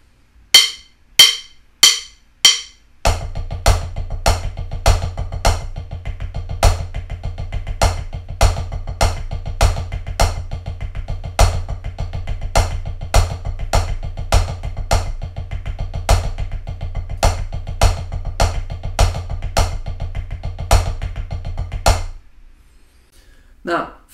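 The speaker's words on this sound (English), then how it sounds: "4 paradiddles and then 2 paradiddles." A drum kit plays a paradiddle exercise, four paradiddles then two, as crisp, evenly spaced strokes repeating over about twenty seconds above a steady low hum, close and loud.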